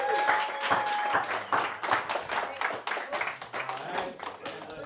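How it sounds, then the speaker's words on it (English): A seminar audience claps in a loose, uneven round of applause, individual claps distinct and fairly close, with some voices and a faint tone mixed in. "let's give Chris a big round of applause"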